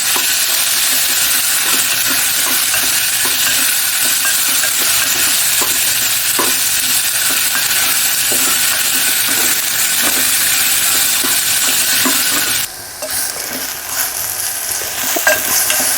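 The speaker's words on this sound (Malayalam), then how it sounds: "ഈ നെയ്യിലിട്ടിട്ട് നന്നായിട്ടൊന്ന് വഴറ്റിയെടുക്കാം" Ripe plantain pieces sautéing in ghee give a loud, steady sizzling hiss with repeated spoon scrapes through the pan, close up and continuous, the frying hiss thinning abruptly near the end.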